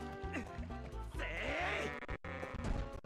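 Goats bleat repeatedly in Twilight Princess, wavering cries rising over cheerful game music, fairly close, with a brief gap near the end.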